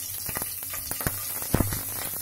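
Green chilies crackle and sizzle in hot mustard oil for Bengali-style aloo bhaja, a close hiss punctuated by sharp spattering pops, short and fairly loud with no talking.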